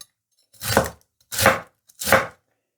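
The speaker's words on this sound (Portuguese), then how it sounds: "E agora cortar mais ou menos a mesma quantidade de repolho. Mais ou menos igual, tá? Assim. E em pequenos pedaços." A knife chops cabbage into small pieces on a cutting board, three distinct crisp thuds spaced evenly about two-thirds of a second apart, close and clear with no voices.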